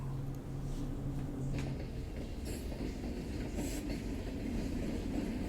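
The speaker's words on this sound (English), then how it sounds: "The trains go by any hour of the day, usually shipping containers and petroleum tanks." A hi-rail train rolls past on railroad tracks in Old Torrance, a loud continuous rumble and clatter of wheels with a sustained low tonal hum early on, close and without talk.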